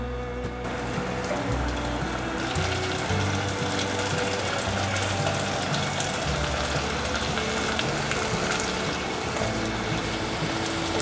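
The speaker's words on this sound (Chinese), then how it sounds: "接下来炸第二轮。" Tofu-and-seaweed vegan oysters deep-fry in a second batch, with dense, loud, continuous crackling and bubbling of hot oil that stays steady throughout, with no voices.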